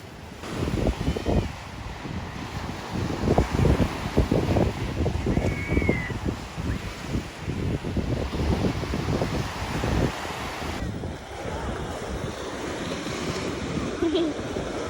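Sea waves wash onto the beach at Yangyang, Korea, a close, rough rushing surge with steady wind buffeting the microphone, the roar shifting as each wave breaks and recedes, with occasional voices faintly underneath.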